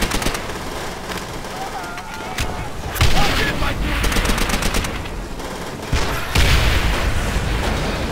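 Dense machine-gun fire and heavy booms, including a Panzerschreck rocket blast, erupt in a Call of Duty: World at War town battle, loud and close, with voices talking over the chaos.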